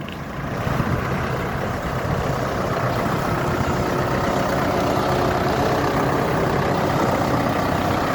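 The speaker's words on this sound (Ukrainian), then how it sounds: "Потужний тракторець" A Solis 105 tractor's diesel engine idles steadily nearby, a constant low rumble with no voices.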